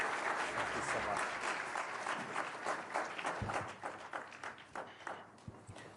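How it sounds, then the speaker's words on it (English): An audience at the World Economic Forum applauds after UN Secretary-General Guterres finishes his speech, dense clapping that thins and tapers off into scattered claps toward the end. "I think you also heard a warm applause that your call to action was well received"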